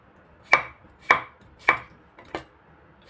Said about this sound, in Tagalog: So, ito naman ay pitpitin natin yung luya.